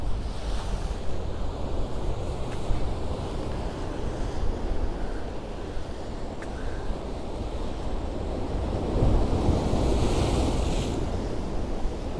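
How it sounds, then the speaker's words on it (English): Ocean surf breaking steadily on the shore at Can Pastilla, Mallorca, with strong wind buffeting the microphone; a continuous loud roar that swells louder near the end as bigger waves build, with no talking. "See the waves building up out there."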